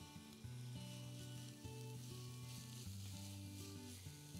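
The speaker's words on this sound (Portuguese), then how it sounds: "Enquanto essa cebola e alho refogam" Onion and garlic sauté in a pan with a soft, steady sizzle. A faint tonal hum runs underneath it and no voices are heard.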